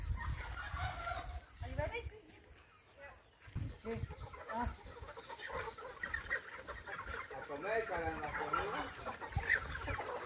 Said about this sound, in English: they're going to let the chickens out